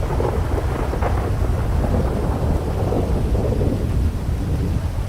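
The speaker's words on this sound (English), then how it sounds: "Then the thunder is no better." Steady loud rain and rolling thunder from the weather system in the video game GTA 5, a continuous dense roar filling the whole stretch with swelling rumbles and no voices.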